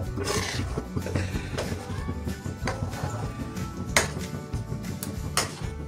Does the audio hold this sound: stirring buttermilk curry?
yes